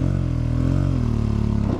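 Enduro dirt bike engine on a training trail at Emma Long in Austin, Texas: a loud, close, buzzing single-cylinder drone that rises and falls slightly as the rider works the throttle, with no talk over it.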